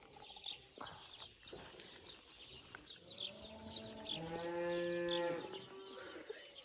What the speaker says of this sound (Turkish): Bak inekler birbirleriyle konuşuyor.